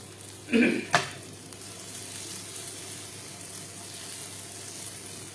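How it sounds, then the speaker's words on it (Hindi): Pea and fennel shami kebabs shallow frying on a tawa give a short burst of sizzle and stirring near the start, then a low steady hiss continues alone. "तो हम भी इसको शैलो फ्राई कर रहे हैं।"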